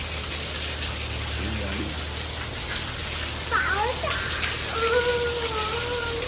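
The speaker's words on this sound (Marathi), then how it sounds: "जाम पाऊस पडतो" Steady heavy rain hisses throughout, with faint children's voices and a few brief cries rising over the downpour.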